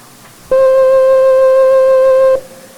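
Wurlitzer home organ holding a single middle C on the upper keyboard, a loud steady pure tone of nearly two seconds, starting cleanly and cutting off sharply, with nothing else playing.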